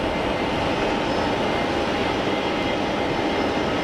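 Steady, loud roar of an easyJet airliner at Geneva Airport as it passes over the runway threshold, a broad continuous engine rush with a faint tonal whine, constant throughout and no voices.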